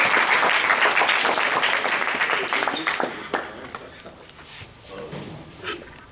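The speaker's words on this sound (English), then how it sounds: "Y'all clap it" A crowd at a character development talk breaks into applause, dense and loud at first, then thinning into scattered claps with voices and shuffling underneath as it fades.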